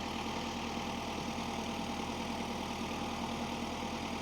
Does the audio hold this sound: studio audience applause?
no